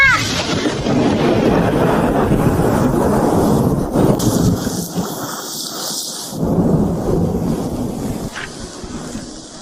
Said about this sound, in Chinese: 外头打雷了，怕是马上要下雨。